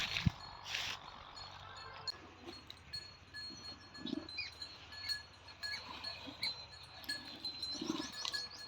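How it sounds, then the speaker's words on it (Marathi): A cow munches pigeon pea pod husks close by in soft, repeated crunching bursts, with a bell clinking faintly now and then. "आमच्या गाईला चारा टाकत आहे"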